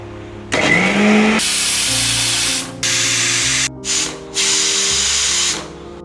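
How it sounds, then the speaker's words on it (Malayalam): Kitchen mixer grinder blending green chillies, grated coconut, turmeric and water into a paste, loud motor whine in several bursts separated by short pauses, close and without talk. "അത് ലേശം വെള്ളം ഒഴിച്ചിട്ട് നമുക്കിനി മിക്സിയിലിട്ട് അടിച്ചെടുക്കാം."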